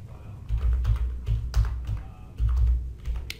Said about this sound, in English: type in the word clickable.